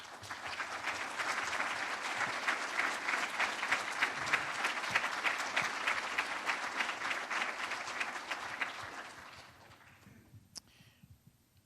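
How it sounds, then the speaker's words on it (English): A sustained round of applause from a sizable crowd at a community unity gathering, loud and even for several seconds before tapering off into quiet. "let us say thank you with a round of applause."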